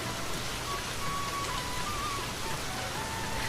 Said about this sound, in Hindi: तभी अचानक बारिश शुरू हो जाती है।